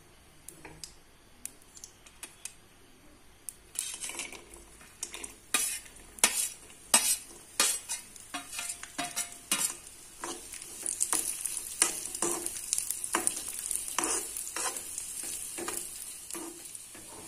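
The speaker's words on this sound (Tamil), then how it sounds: "சின்ன கடாய் வச்சிருக்கேன், அதுல கொஞ்சம் நெய் ஊத்தி திராட்சை முந்திரிய வறுத்து அல்வால போட்டிடலாம்." Raisins and cashews frying in ghee in a small kadai, a soft sizzle under repeated close scraping and clicking stirs that grow busier and more continuous after the first few seconds.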